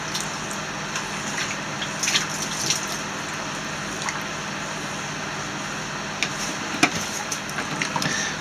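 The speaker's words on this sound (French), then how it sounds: "Donc pour le moment j'ai rincé avec l'eau distillée, parce que c'est la première qui coule" Distilled water runs steadily while equipment for making colloidal silver is rinsed, a constant close gush with a few brief clinks and splashes over it and no voices.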